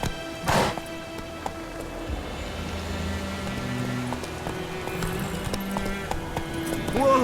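In a fantasy role-playing game, a horse's hooves clip-clop in a steady galloping rhythm on a road for several seconds, starting after a sharp whack, with faint ambience underneath and no speech.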